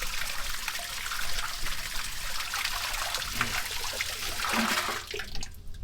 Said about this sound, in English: You hear that? We got water.